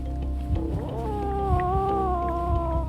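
A cat lets out a long, low, wavering growl at an approaching badger in a British garden, rising into a drawn-out yowl, steady and close against a rumbling background.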